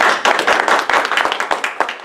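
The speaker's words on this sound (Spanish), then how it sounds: "Dale un aplauso al Señor." A church congregation applauds during a Sunday service, loud rhythmic group clapping in a steady fast beat, close and full, with no talk over it.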